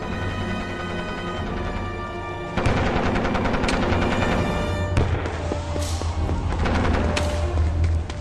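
Sustained gunfire effect for soldiers making a last stand from behind logs and bushes in a jungle clearing, a dense continuous barrage of rapid shots and booms that grows louder partway through and keeps going, with no talk.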